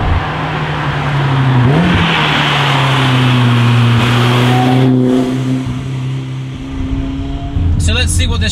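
A race-derived BMW DTM car engine pulls hard through the gears, its loud, close exhaust note climbing in pitch, with a brief shift near the start and another surge toward the end.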